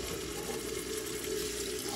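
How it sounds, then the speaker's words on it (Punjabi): Water pours steadily into a pot of Punjabi-style aloo matar (potato and pea curry) during cooking, a continuous close rushing splash with no talking. "ਪਾਣੀ ਪਾਉਣਾ ਆਪਣੀ ਲੋੜ ਮੁਤਾਬਕ"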